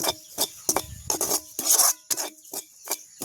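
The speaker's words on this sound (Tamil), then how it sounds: "இப்படியே நாங்கள் கிண்டி விடுவோம்" A coconut laddu mixture is stirred with quick rasping scrapes against the pan, about ten short, close bursts in an uneven rhythm with brief silences between them and no voices.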